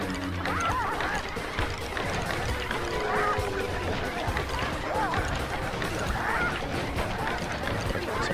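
Squawking chickens from the Sly Cooper video game cackle repeatedly over dense, busy game noise, with a voice talking over it.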